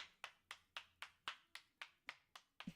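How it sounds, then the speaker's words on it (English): A single pair of hands clapping slowly and evenly in the video game Steins;Gate 0, about ten sharp claps in an unhurried rhythm, quiet and isolated with no talking. "He started to applaud."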